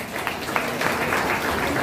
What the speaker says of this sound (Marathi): त्यासाठी जोरात टाळ्या